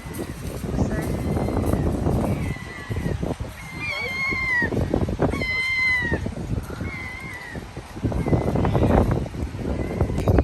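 Seagulls cry repeatedly in high, drawn-out calls over steady wind noise and people talking nearby in Brighton.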